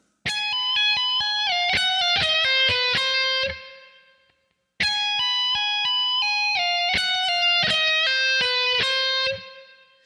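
Distorted electric guitar playing a passage, rapid bright picked and tapped notes in a fast repeating run, played twice with a short pause between, loud and solo without talk.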